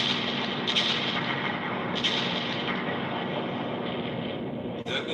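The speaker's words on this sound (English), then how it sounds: "Then there was a devastating artillery bombardment." A devastating artillery bombardment rumbles on without pause, a heavy, continuous roar of distant guns with several sharper blasts rising out of it and one loud close crack near the end.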